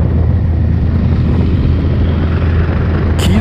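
A Honda CBR 1000 RR Fireblade SP sport motorcycle engine roars steadily and loudly, heavily buffeted by wind noise as it rides at speed, with no talking.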